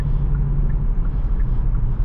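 Low steady road rumble and tire noise inside a 2019 Kia Stinger GT AWD on 19-inch wheels, a constant deep drone heard alone without talk.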